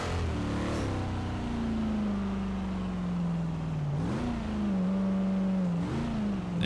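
A 1970 Chevelle SS 454 engine in Forza Horizon 3 hums steadily as it cruises, then dips and revs back up twice as it shifts, close and continuous with no voices.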